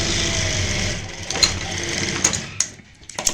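A sewing machine stitches a white lace piece onto fabric for a neck design, its steady close whir running throughout with a few sharper clicks near the end.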